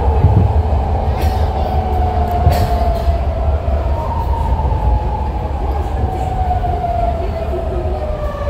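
A BART Legacy rapid transit train rumbles along the tracks between Coliseum and West Oakland stations with a deep steady roar, a long high wheel squeal whining over it and clanks scattered throughout.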